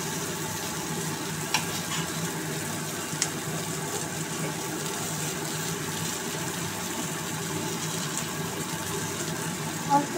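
Bitter gourd and mixed vegetables frying in a pan for a vegetarian dish, a steady close sizzle with occasional light stirring clicks.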